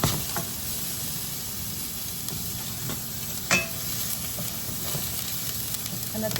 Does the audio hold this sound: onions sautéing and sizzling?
yes